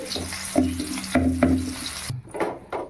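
Smashed field beans frying in ghee for a halwa make a steady close sizzle, broken by a few clinks and scrapes of a spoon stirring in the pan.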